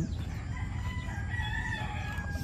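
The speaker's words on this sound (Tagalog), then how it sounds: "pakita ko sa inyo yung ating mga inahin na mga materialis" Backyard chickens heard from nearby on a farm, a brief stretch of clucking and crowing over a steady, noisy outdoor background, with no talking.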